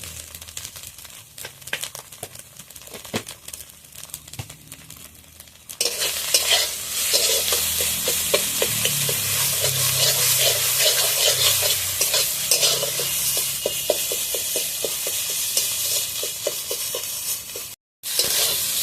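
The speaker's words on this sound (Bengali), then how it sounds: "এইভাবে আমি কড়াই দিয়ে ভালোভাবে নাড়িয়ে নেবো। আবার ভাজা ভাজা করে নেবো।" Ghatkul leaf paste stirred and fried in oil in a wok, a quieter scraping start giving way to steady loud sizzling with rhythmic spatula scrapes, close up and without talk.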